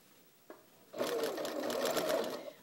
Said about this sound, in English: Okay, now I'll continue sewing,